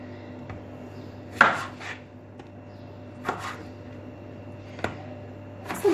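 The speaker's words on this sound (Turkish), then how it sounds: "2 tane domates yeterse 2 tane doğrayacağım." Several sparse knife chops through tomatoes on a cutting board, close and crisp, with a steady low hum underneath.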